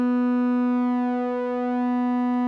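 Steady synth tone from an OBXD Oberheim synthesizer emulation, two oscillators with detune turned down, holding one clean pitch with rich even harmonics and no beating, alone and fairly quiet.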